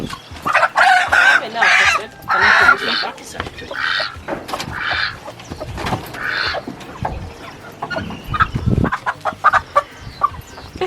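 Chickens on a mixed farm cluck and squawk loudly and repeatedly close by, with goose-like honks among them and people talking in between.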